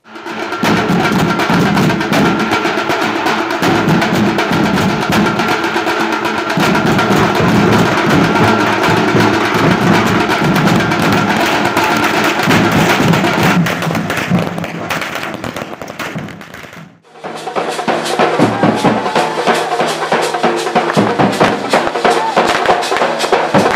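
A long, dense run of firecrackers bursting in rapid crackling volleys at a political party celebration, loud and continuous, with a brief pause before the bursts resume.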